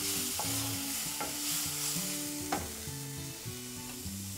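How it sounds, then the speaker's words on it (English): Chopped tomatoes cooking with browned onion in a pan, a steady sizzle with occasional stirring scrapes, close and continuous with no talk. "To this, I'm going to add these chopped tomatoes, and we are going to cook it for about 2 to 3 minutes."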